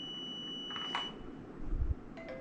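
A water level alarm buzzer on a headwater monitoring system with a sensor gives faint, thin electronic beeps over a steady hum, with short tones clustered near the end.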